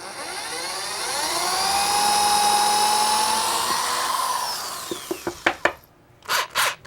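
A power drill bores two quick holes into a Sega OutRun arcade cabinet during repair work: a long, loud whining drill run that rises and falls in pitch, then several short bursts as the bit is pulsed.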